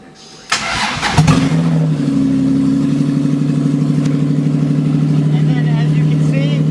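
A Toyota 2JZ-GE engine in a Nissan S14 cranks, catches and settles into a loud, steady idle up close, with a voice speaking briefly over it.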